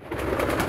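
Pigeons cooing close by in a short, soft, throaty burst, with no talk.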